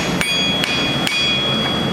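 Three sharp metallic hammer taps, spaced evenly, ring out close by as a small hammer knocks retaining clips off a Ford Territory center bearing in a workshop.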